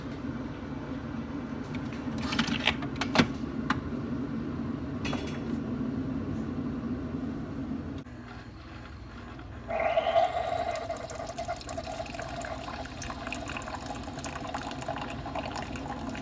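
Keurig coffee maker brewing a K-cup into a mug after descaling. A low machine hum and a few gurgles come first, then a steady, close stream of coffee pours into the mug for the remaining several seconds.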